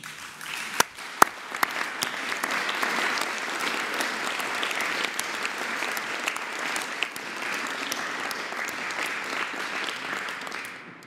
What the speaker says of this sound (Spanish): Bueno, entonces vamos a aplaudirle a las niñas y a los niños.